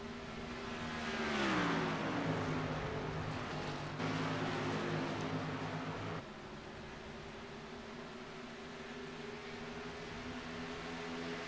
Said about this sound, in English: as they come around to catch the pace car.